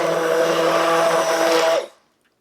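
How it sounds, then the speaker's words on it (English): A blender runs steadily on broccoli cheddar soup made in an Instant Pot, a loud continuous motor whir with a thick churning texture that holds for almost two seconds and then cuts off into silence. "I figured I'm gonna blend it all"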